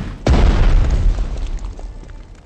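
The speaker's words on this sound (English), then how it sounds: "I want all cannons firing on that target." Cannons fire in a World War II naval strategy video game set during Operation Sea Lion, giving one loud deep boom that rolls off into a rumbling decay.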